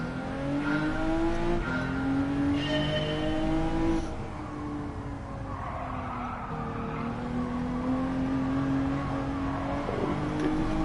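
Honda NSX race car lapping the Autopolis circuit in Gran Turismo 7, engine note rising and falling through gear changes with squealing tyres through corners, loud and continuous throughout.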